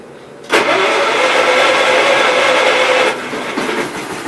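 A Kohler engine is cranked over after a fuel line fix and catches, running loud and steady at close range before its pitch and level drop slightly near the end.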